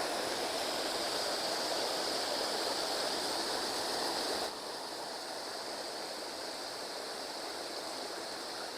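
Temple Falls, one of the Aare falls, pours as a steady broadband rush of falling water, loud and close, with no talk; the roar drops slightly partway through as the listening position shifts.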